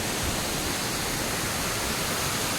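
Bhairaghumar waterfall, a steady, dense roar of rushing, falling water that fills the whole clip, loud and unbroken with no voices.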